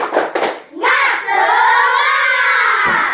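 Fourth-grade pupils in an elementary school classroom do a 'tepuk semangat' clapping chant: a quick burst of rhythmic claps, then the group breaks into a loud, sustained shout together, close and energetic.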